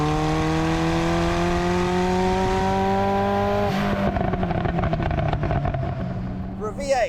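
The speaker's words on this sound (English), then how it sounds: "The sound of this Ferrari is just mega." A Ferrari F40's 2.9-litre twin-turbocharged V8 drones steadily and climbs gradually in pitch, then shifts around the midpoint into a rougher, pulsing burble as the car pulls away slowly, close and loud.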